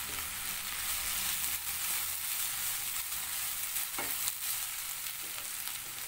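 Onions fry with a pinch of salt in a pan for a tapioca chicken biryani, a steady close hiss of sizzling with a few scraping stirs partway through.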